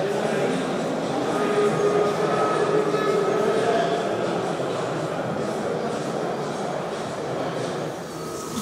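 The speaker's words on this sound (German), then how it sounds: "Zu später Stunde ist jetzt der Orient Express noch mit einer S36 im Einsatz." A gauge 1 model Orient Express train hauled by a live-steam S36 locomotive rolls past at a model railway meet, giving a steady close rumble and clatter of wheels on track throughout.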